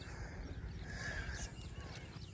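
Horse hooves clip-clopping along a rain-soaked village path as the horse is led away, a steady close rhythm of hoof falls over a continuous background.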